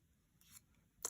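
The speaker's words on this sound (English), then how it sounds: "we can take our scissors and do a little snip here" Scissors snip through craft paper while a paper sunflower is shaped: a soft cut, then a sharper, closer snip about half a second later, both quiet and with no talking.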